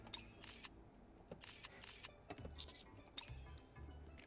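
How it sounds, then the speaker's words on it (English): A camera shutter in the game NIKKE, clicking open and shut several times in quick, irregular bursts with light metallic clinks between them, close but quiet against a soft background. "I turned my head towards the sound of a shutter opening and closing"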